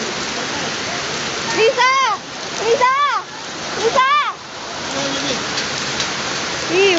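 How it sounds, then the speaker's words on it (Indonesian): Hail falls steadily in Palolo, Sigi, Central Sulawesi, a constant loud rattle and splatter heard beneath several bursts of excited voices. "Hujan es."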